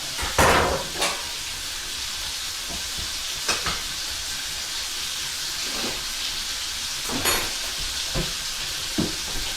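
Steak sizzling in a cast iron skillet, a steady broad hiss with several sharp crackling spits and pops standing out at irregular moments, close and fairly loud, no talking.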